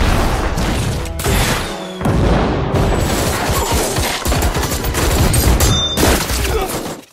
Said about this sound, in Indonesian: Tuan Panther yang diliputi rasa dendam tidak segan-segan menembaki mereka semua para anak buah Jenderal Jack.